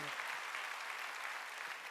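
A church congregation applauding during a Sunday worship service, a dense, steady burst of many hands clapping together.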